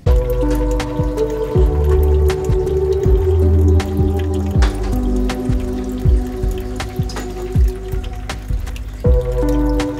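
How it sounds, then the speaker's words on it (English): Water trickles and drips steadily from a tiny nano filter running in a freshly filled tabletop aquarium riparium, a close, continuous splashing with a low hum and occasional louder drops. "There we go, just a tiny little nano filter."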